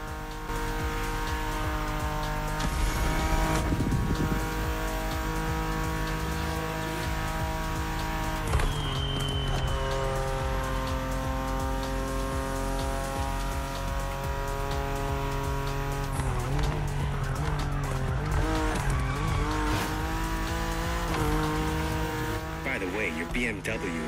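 BMW M4 engine in the racing game Motorfest, tuned for a Liberty Walk playlist, roaring loudly and continuously with rising and falling revs, gear shifts and bursts of tire squeal.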